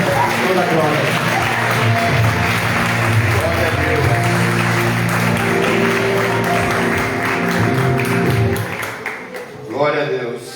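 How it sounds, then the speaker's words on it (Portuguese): A church congregation claps during a live worship service, the clapping blended beneath loud music or singing and voices for most of the stretch before fading toward the end. "As palmas do nosso Senhor Jesus, para Ele toda a honra, toda a glória"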